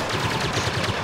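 Pulse rifle fire in Star Wars Battlefront (2015), a quick run of rhythmic blaster shots fired at close range, loud and dense, layered over busy battle noise.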